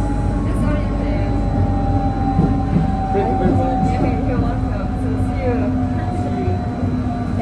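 Steady low rumble of a Lisbon CP Urbanos commuter train on the Sintra line running on the rails, with a constant hum and faint rattling throughout.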